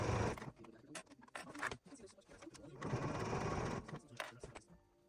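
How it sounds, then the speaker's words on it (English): A sewing machine stitching a suede bag, its motor whirring in short runs broken by brief pauses, close and moderately loud, with no talk over it. "Anyway, let's sew this."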